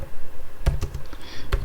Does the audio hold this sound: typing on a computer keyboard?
yes